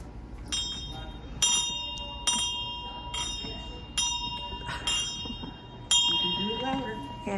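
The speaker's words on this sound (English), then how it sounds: "Earlier this week was her last treatment, and I took her and she got to ring the bell." An end-of-treatment bell rung by hand, about eight bright metallic strikes at a brisk, slightly uneven pace, each ringing on before the next, with faint voices toward the end.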